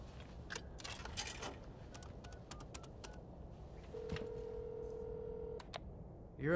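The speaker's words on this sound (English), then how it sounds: "They're just phones. Just still like type in your number?" A phone keypad being pressed to dial a number in Devil May Cry 5: scattered short button beeps, then one longer steady tone, all faint over low background noise.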